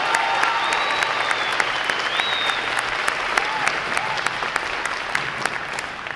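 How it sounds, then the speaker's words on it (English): A crowd at a Navy boot camp graduation applauds award recipients with sustained, dense clapping and a few whistles rising above it, holding at an even level from start to finish. "how about another round of applause for our award recipients and outstanding work of this training group"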